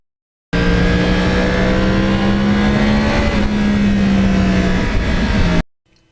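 A Yamaha R1 crossplane sport motorcycle holds a loud, steady engine drone while being ridden along roads by the Hudson River, its tone rising slightly then easing, heard up close with wind, ending abruptly.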